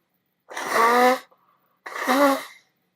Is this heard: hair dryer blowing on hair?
no